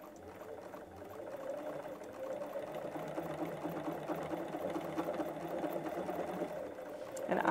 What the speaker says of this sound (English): We're just going to do a quick edge stitch here.